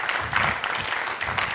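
An audience at a mentorship session breaks into a brief, loud round of applause, with many hands clapping in a continuous dense burst.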